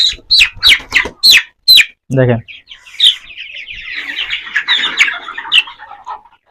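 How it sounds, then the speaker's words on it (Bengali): Chickens squawk and cluck close by as they are caught by hand for fowl pox vaccination, with someone talking in short phrases first and rapid, agitated bird calls following. "এবার আমরা ভ্যাকসিন দেবো তার জন্য আমাদের এখন মুরগি ধরতে হবে"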